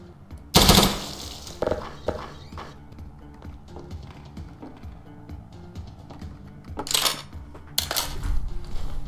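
Bursts of submachine gun fire crack out in a Garry's Mod session: a loud opening burst, then clattering rapid shots and a couple more sharp bursts near the end, amid scattered clicks and small game noises.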